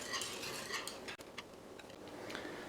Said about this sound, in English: we're going to whisk all this stuff together